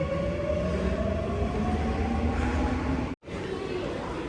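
Steady rumble of a Seoul subway train running on rails with a faint rising whine, continuous throughout, briefly cut off near the end before resuming.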